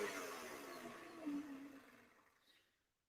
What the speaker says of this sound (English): for the last few seconds, I'm just going to whisk it up on high.